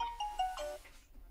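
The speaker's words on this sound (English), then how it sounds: "Choose ringtone which you want." A short melodic Samsung Galaxy A20e ringtone plays a few bright electronic notes, clear and close, then fades out.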